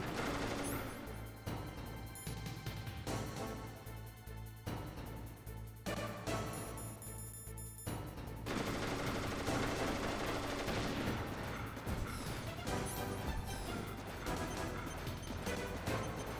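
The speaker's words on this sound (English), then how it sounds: "He's just shooting mindlessly" Sustained rapid gunfire from a boss fight in the video game Metal Gear Solid 3 Delta, with dense bursts of shots and crashes running loud and nearly continuous over a steady music bed.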